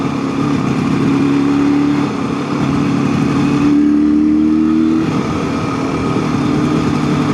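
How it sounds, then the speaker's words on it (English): A motorcycle with sidecar riding on a road, its engine a loud, steady droning hum heard close up, with pitch shifts as the throttle changes and no talking. "Now I'm on a sidecar"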